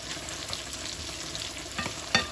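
Ground beef sizzles and fries in a pan for spaghetti, browning crispy while being stirred, with a steady close crackle and a few sharp scrapes and clicks of the utensil near the end.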